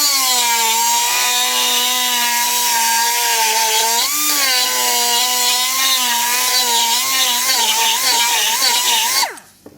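A loud, steady power drill whine boring into material, pitch dipping briefly under load, then cutting off abruptly at the end.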